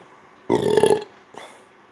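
One loud, close burp lasting about half a second during a casual live stream, followed by a brief fainter voiced sound.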